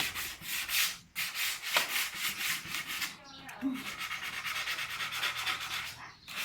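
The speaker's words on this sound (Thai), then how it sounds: "อันนี้คือวิธีการขัด หลังโป๊สีนะครับ" Repeated back-and-forth sanding strokes on a line array speaker cabinet after body filler, steady rasping rubs that pause briefly around one and three seconds, close and loud with no talk.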